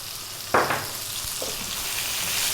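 Garlic and white onion sizzle in a hot pan over high heat, a steady frying hiss with a couple of sharp bursts as the ingredients are tossed around.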